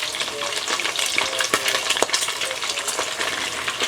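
Garlic sautés in a pan for Filipino pinakbet, a steady close frying sizzle with quick crackles and light metallic taps of stirring, loud and continuous with no talk.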